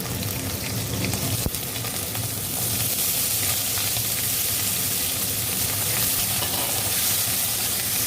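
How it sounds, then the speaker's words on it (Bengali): Potatoes fry in oil tempered with a bay leaf and nigella seeds, making a loud, steady sizzle that swells as they settle, with one sharp clack near the start. "এইবার এই তেলে আলুগুলো দিয়ে দিচ্ছি"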